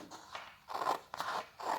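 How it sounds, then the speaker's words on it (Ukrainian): Scissors snip through stiff cardboard in three or four crisp, crunchy cuts, close and fairly quiet, with short pauses between. "Вирізуємо квадрат ножицями"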